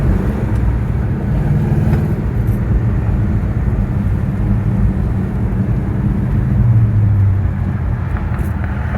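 A steady low engine rumble and road noise from inside a moving 1968 Pontiac GTO, constant and loud with no talking.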